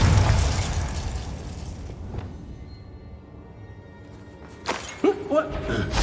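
A Bombardo spell explosion in Hogwarts Legacy, opening with a loud booming blast that decays over a couple of seconds, followed by sharper bursts and pops near the end.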